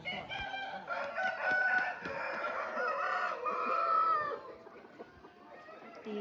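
Several fighting game roosters crow and cluck together in an overlapping, noisy chorus at moderate distance at a breeding facility, fading somewhat toward the end.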